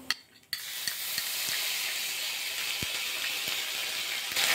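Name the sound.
stirring ginger and black cumin frying in oil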